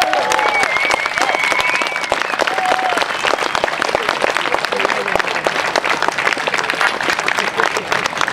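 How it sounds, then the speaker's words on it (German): A crowd gives sustained, loud applause with some whistles for a jet pilot at a night air show at the Jetpower fair in Bad Neuenahr-Ahrweiler, 2012. "hat sie für diesen fantastischen Flug, der uns wirklich hier auch so die Gänsehaut hier am rauf und runter getrieben hat, einen ganz, ganz kräftigen Applaus verdient"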